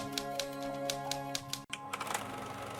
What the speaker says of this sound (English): She even has a typing thing.